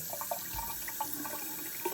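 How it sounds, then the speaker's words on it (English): Cold tap water rinses the washable filter of a Dyson Ball Animal vacuum, a steady close splashing wash with small irregular spatters and no talking. "generally speaking, you want to just hit it with cold water"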